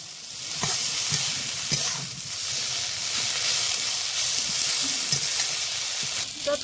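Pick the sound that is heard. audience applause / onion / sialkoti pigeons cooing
onion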